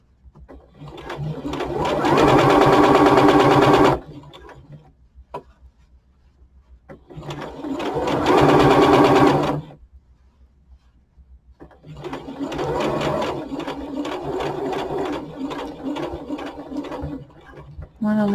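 Sewing machine stitching fabric for a hat, three separate runs of rapid mechanical chatter with quiet handling noises between them, close and clear.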